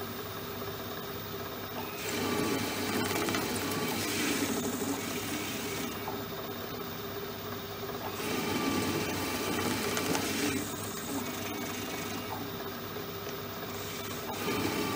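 A Myford Super 7 lathe with solid tool post and electronic leadscrew takes test cuts under load, a steady mechanical drone and whine whose cutting noise rises and falls in several long stretches, close and alone.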